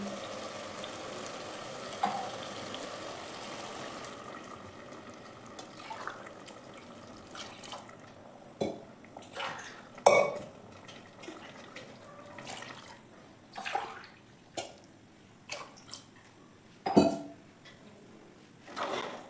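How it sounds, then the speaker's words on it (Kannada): Four cups of water poured one after another into a chicken biryani pot over a faint sizzle, with separate splashing pours and knocks of the cup against the pot. "ಇವಾಗ 4 ಕಪ್ಪು ನೀರು ಆ್ಯಡ್ ಮಾಡ್ಕೋತೀನಿ"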